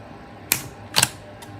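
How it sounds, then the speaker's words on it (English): A Canon Rebel T5i camera fires its shutter, giving two sharp, close mechanical clicks followed by a fainter third click in a quiet room. "Hear the shutter click on, that's how you know it works."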